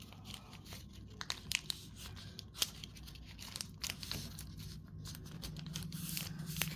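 Folded material is pressed and pushed into a gap around a door, giving soft crinkling and rustling with a few sharp crackles and small taps, close and fairly quiet, with no talking.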